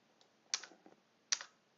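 A few light keystrokes on a computer keyboard, faint and close, with two sharper key clicks standing out from softer taps.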